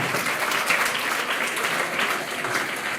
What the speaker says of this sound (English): Let's give them a better clap.